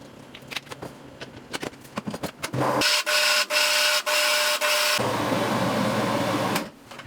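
A blender grinds kimchi seasoning with shrimp paste and broth: some clattering taps, then a loud, steady whirring roar that cuts out briefly and then resumes close by.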